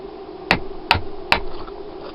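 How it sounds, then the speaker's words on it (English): A hammer gives three sharp, evenly spaced metallic taps to drive a bearing onto an electric motor shaft, each strike ringing briefly over a steady background hum. "And then I use just a hammer,"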